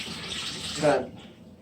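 Tap water runs briefly into a cooking vessel in a home kitchen, a soft close splash that swells and then stops, with faint talk nearby.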